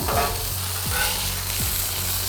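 Onions sautéing on a hot griddle beside burgers give a steady, close sizzle, with a few scraping spatula strokes as they are pushed toward the cooler edge.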